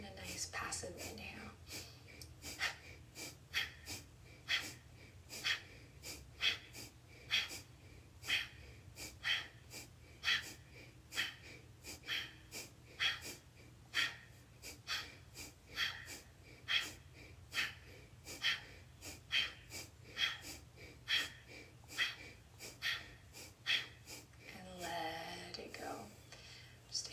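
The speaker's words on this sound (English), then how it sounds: "Nice explosive exhale. And a nice passive inhale." Rhythmic pranayama breathing repeats as a long series of sharp, explosive nasal exhales, each followed by a quieter passive inhale, evenly paced and close, with a brief pause near the end.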